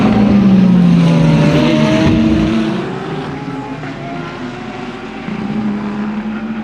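Race cars scream past at a racing circuit, a loud engine whine dropping in pitch as the first car goes by, then fading to a more distant drone as others follow.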